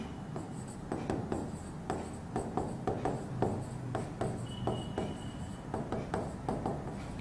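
Marker or chalk writing notes on a board during a chemistry lesson, with steady scratchy strokes and taps in quick irregular rhythm, close and fairly quiet, with no talking.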